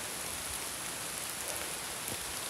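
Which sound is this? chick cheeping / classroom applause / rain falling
rain falling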